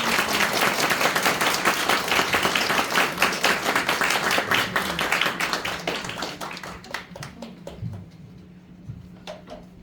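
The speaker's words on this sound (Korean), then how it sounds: "다 같이 박수하겠습니다." A church congregation at a Sunday service applauds together, dense and steady at first, then thinning into scattered claps that fade out toward the end.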